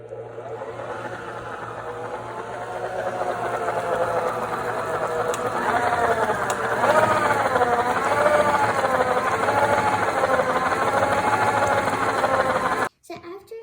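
An electric mixer blends zucchini into cake batter, a steady close motor whir that grows slightly louder and wavers in pitch as it works, then stops abruptly near the end.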